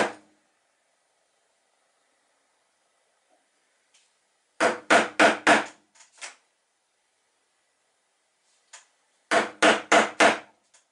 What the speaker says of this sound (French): pour faire la mortaise de la quille, on pose un ciseau large.